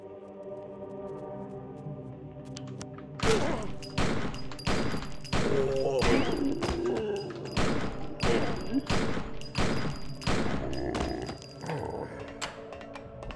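Gunfire in the Blair Witch video game: a burst of about a dozen sharp shots at irregular intervals, loud against a quiet ambient game backdrop, with faint other game sounds between them.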